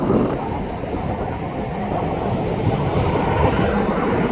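A steady, loud rumble of an eastbound SkyTrain Mark V train passing nearby, heard from an overpass, a broad continuous roar with no voices.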